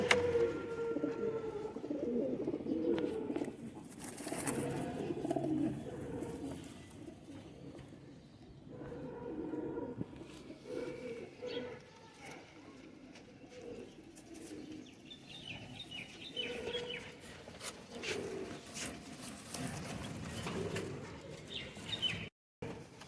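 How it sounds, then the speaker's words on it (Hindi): Rampuri pigeons cooing steadily throughout, a continuous layered chorus of low coos with occasional wing flaps and chirps, fairly close and without talk. "ये हैं रामपुरी कबूतर"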